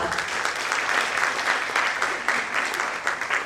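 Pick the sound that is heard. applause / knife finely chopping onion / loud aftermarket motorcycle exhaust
applause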